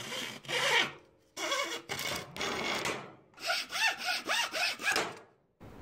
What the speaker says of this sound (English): The cross members I'm cutting at 39 centimeters.